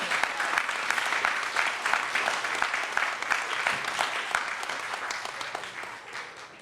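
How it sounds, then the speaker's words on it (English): Sustained applause from a standing audience at a YouthBuild St. Louis City graduation ceremony, a dense, steady clatter of many hands that holds strong before thinning slightly near the end. "give yourselves a round of applause"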